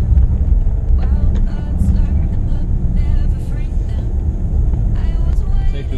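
Mercedes EQC all-electric SUV accelerating hard in sport mode, heard from inside as a steady, loud low road and motor rumble with faint whine, while people talk over it.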